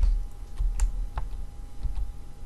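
Typing on a computer keyboard while entering a name into an Excel cell, a short run of crisp, close key clicks in an irregular rhythm, heard alone.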